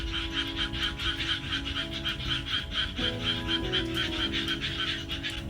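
A chorus of frogs croaks in a backyard garden at night, a dense and steady pulsing rhythm that carries evenly throughout with no voices over it.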